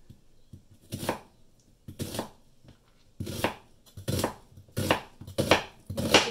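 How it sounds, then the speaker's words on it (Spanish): A knife slices through an onion on a cutting board in seven distinct chops, each a crisp close thud with brief pauses between, no voices over it. "Comenzaremos por rebanar"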